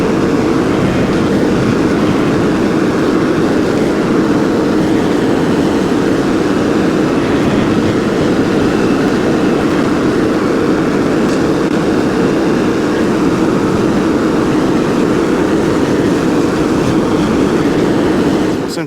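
A tractor pulling a bush hog mower through a hayfield makes a loud, continuous engine roar and a mechanical rumble that hold steady from start to finish, with no voices.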